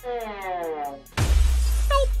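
A glass door shatters in one sudden loud crash that follows a sustained tonal hum, then leaves a dense, lingering wash of breaking noise with a short higher squeal near the end.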